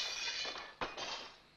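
A thrown rock smashes through glass in the 1946 film It's a Wonderful Life, with one sharp crack of shattering over a steady film-soundtrack hiss and no voices.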